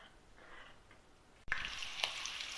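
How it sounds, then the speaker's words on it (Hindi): Onions frying in a hot kadhai: a soft, faint sizzle that jumps louder midway as the onions hit or get stirred, then a steady crackling fry alone. "प्याज हमने डाल दी कढ़ाई में। प्याज को हमने गोल्डन कर लेना है।"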